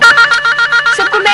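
A telephone bell rings repeatedly in quick pulsing bursts, loud and close, with no talk over it.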